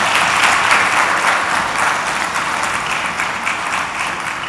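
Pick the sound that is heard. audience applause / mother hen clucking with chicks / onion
audience applause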